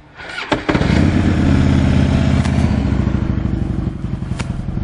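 A yellow pearl Harley-Davidson trike motorcycle fires up with a thump and settles into a loud, close, steady rumbling idle that carries on alone without any voices.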